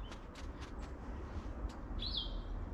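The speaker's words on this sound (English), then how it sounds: "the sound of the birds" Several short bird chirps sound at a distance over a steady outdoor hiss, followed by one brighter, louder tweet near the end.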